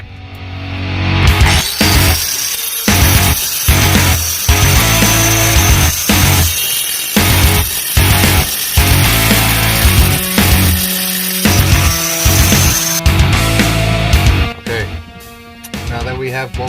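Metal being cut for a trailer hitch install on a 2014 Hyundai Santa Fe: loud, close, rhythmic rasping strokes repeat steadily in bursts, with brief gaps between runs of cutting.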